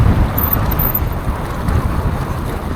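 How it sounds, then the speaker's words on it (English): Strong, steady wind roars against the microphone at a mountain bike park, a continuous broadband rush that holds loud from start to finish without letting up. "that's the worst wind I've felt through there"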